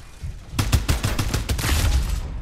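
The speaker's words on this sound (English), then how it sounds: "Time for some artillery!" Artillery fire in a video game: a rapid volley of booming, crackling blasts that rolls on in quick succession, loud and close, with no talking.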